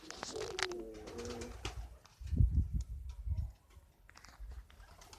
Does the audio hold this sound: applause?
no